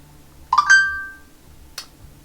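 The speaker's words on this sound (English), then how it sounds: "Sorry, just my phone." A mobile phone chirps with a short two-note electronic notification tone, loud and close, followed by a brief soft click, with no one talking.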